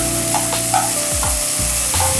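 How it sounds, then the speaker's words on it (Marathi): Peas, beans and mixed vegetables sauté in hot oil for a Bhogi bhaji, a loud, close sizzle with soft stirring scrapes, no voices. "या सगळ्या भाज्या या तेलामध्ये चांगल्या परतून घ्यायच्या"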